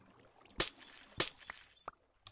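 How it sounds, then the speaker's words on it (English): An ice block shattering in Minecraft, two sharp glassy breaking crashes about half a second apart followed by a few smaller clinks, close and crisp against near silence. "You'll just end up breaking the ice and creating water."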